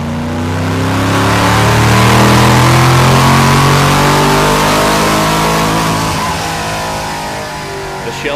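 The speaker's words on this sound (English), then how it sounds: "the supercharged LS3 motor is good for 562 horsepower" Supercharged LS3 V8 in a Hennessey Camaro revs hard and loud, the engine note climbing and sustained for several seconds before easing off, with no talk.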